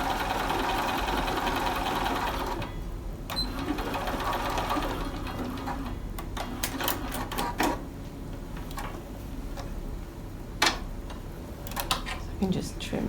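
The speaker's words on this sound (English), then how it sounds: "I'm lining up the edge of the edge of the handle with the edge of the foot, and I'm just going to stitch down" A sewing machine stitches down a fabric edge with a steady, close mechanical whir for a few seconds, then stops, followed by scattered clicks and handling noises as the fabric is adjusted.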